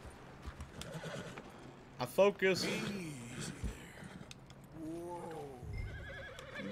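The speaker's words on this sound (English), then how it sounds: "Calm the horse. Focus on the horse." A horse in Red Dead Redemption 2 lets out a loud, wavering whinny, followed by a second, softer neigh and hoof clip-clops, while a person talks over the game sounds.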